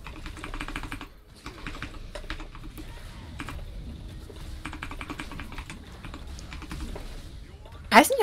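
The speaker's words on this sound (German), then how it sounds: "Irgendwie deine Tastatur ist mega laut" Loud computer keyboard typing, a fast, busy clatter of keys that runs through the whole stretch, close and steady, with a voice talking over it and a brief sharper sound at the end.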